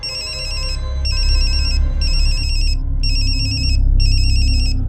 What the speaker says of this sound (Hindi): ऊपर किसका फोन बजा?